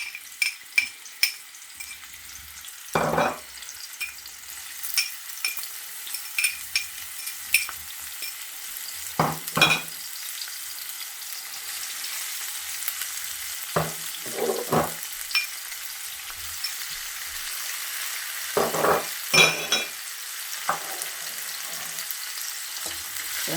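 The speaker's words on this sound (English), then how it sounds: "I'm gonna pour some oil in this pan and then start frying my vegetables" Onions and other vegetables fry in oil in a pan for Jamaican-style callaloo and saltfish, giving a steady soft sizzle broken by several sharp crackling bursts and occasional stirring clatter, with no talking.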